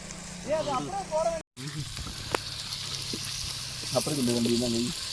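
Chicken curry ingredients with onion and whole spices sauté in a pan while cooking with friends, a steady close hiss of frying running underneath intermittent nearby talk, with a brief dropout partway through.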